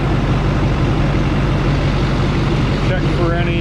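A Duramax diesel engine swapped into a vehicle idles close by with a steady, heavy low rumble that holds evenly throughout, and a brief higher sound cuts in near the end.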